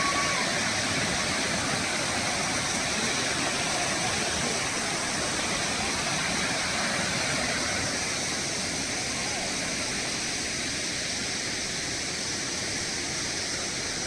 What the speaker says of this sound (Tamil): இது சின்ன நீர்வீழ்ச்சி